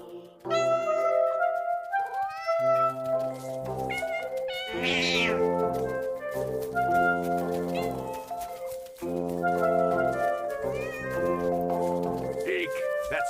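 Cartoon-style cat meows from the Cat Cafe video game, a string of repeated tonal mews and short calls over game music, loud and close, with no talking during them.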